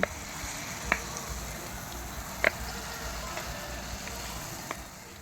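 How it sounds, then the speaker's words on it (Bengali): Jalebi frying in hot oil, a continuous bubbling sizzle with a few sharp pops scattered throughout, close and steady. "এবার আমি বাকি জিলিপিগুলো ভেজে নিচ্ছি"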